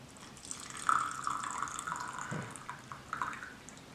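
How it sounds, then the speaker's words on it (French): Tea liquor poured from a gaiwan into a fairness pitcher makes a soft, close trickle of liquid that splashes lightly and thins into a few final drips. "Maintenant venir procéder à la dépose de la liqueur dans le pichet d'équité."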